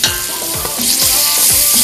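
White onion and garlic sauté in a hot pan, sizzling loudly and continuously while a utensil scrapes and stirs through them in repeated strokes, close up with no talking.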